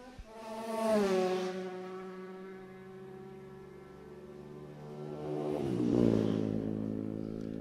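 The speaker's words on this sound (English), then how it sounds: "That's Richard Bull on that Mach 1 Ducati. As you can hear that just into the distance as it goes past the clubhouse" A classic Ducati Mach 1 racing motorcycle at a pre-TT classic practice passes the clubhouse. Its engine note swells and rises, fades into the distance, then swells again as the bike passes faintly further off.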